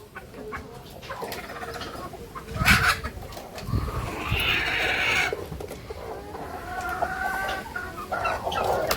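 Kadaknath and native hens cluck close by in a poultry coop, with a steady run of soft clucks and a few louder squawks standing out over the background.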